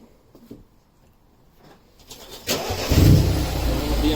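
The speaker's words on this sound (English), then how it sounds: "Okay, so I'm going to start the car." A BMW car engine cranks and catches at about two and a half seconds, settling into a steady, fairly loud idle after a quiet start with faint background sounds.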